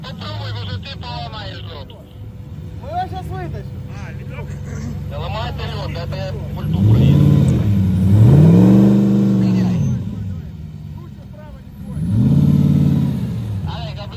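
Close and loud, a repaired Lada Niva's engine drones on sand, then rises in revving pulls around the middle and again near the end, while people talk over the motor.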